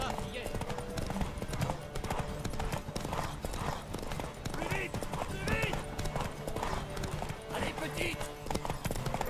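Rapid rhythmic hoofbeats of a galloping horse in The Witcher 3 video game, loud and steady throughout, with voices and other noise mixed in.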